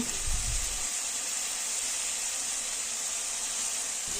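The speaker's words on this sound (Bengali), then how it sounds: "খেজুরের টুকরো দেওয়ার পর খানিকক্ষণ নাড়াচাড়া করে দেওয়ার পর পরিমাণ মতো হলুদ গুঁড়ো দিয়ে দিচ্ছে আর দিচ্ছে লঙ্কা গুঁড়ো" Steady sizzling and hissing from a pan as date pieces fry with turmeric and chili powder during a rustic tomato-and-date chutney cook, with a brief stir or clatter at the start, then a constant close, even frying sound.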